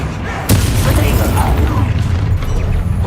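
An Expelliarmus spell is cast in the video game Hogwarts Legacy, a sudden magical whoosh and burst over a dense rumbling game background, with a voice calling out the spell.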